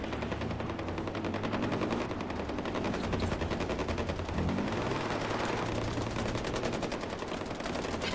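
Gunfire at a firing range in Far Cry 4, a continuous rapid stream of automatic shots rattling steadily throughout, loud and close with no pauses.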